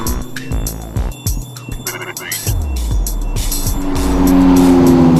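Rossion Q1 sports car driving hard on the Kyalami Grand Prix circuit, its engine revving up and down through gear changes with tire squeal, rising to a loud sustained roar, with a voice talking over it.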